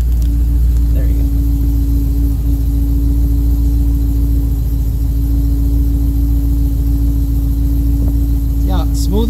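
A Ford Mustang Coyote V8 engine with performance cams idles smoothly and steadily with a low, even hum and a constant mid tone, close by; a brief voice comes in near the end.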